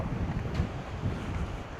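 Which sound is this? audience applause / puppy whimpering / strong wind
strong wind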